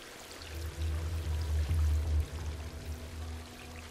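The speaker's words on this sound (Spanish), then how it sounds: "Agüita." Water flows and pours steadily in Stray, a low continuous gush that swells briefly in the middle before easing to a softer trickle, with no voices.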